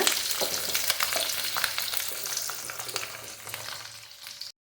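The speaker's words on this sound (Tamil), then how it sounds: "நமக்கு இந்த எண்ணெயில பூண்டு வந்து நல்லா வதங்கணும். நல்லா வதக்குங்க." Garlic sautéing in oil in a pan: a close, steady crackling sizzle with light stirring scrapes, fading slightly before an abrupt cut to silence.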